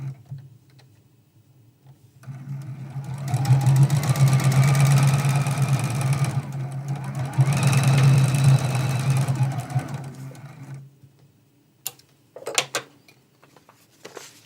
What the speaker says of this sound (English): And we're going to sew this one.